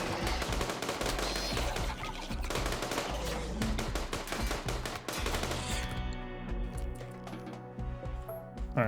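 An automated turret in RimWorld, set on a tundra map, fires long, rapid machine-gun bursts that rattle continuously and loudly for several seconds, then thin out toward the end. There is almost no talk.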